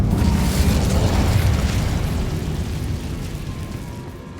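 The Incendio fire spell bursts out in Hogwarts Legacy as a loud, broad roaring whoosh of flame that starts strong and slowly fades over several seconds, with no speech over it.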